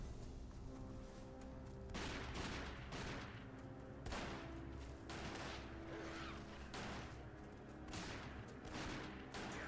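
Dense, loud gunfire bursts in the Resident Evil remastered survival-horror game, several volleys of shots over a constant dark ambient bed, with no talking.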